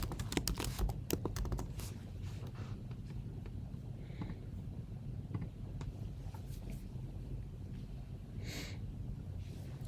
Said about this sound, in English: I'm going to type in our staff.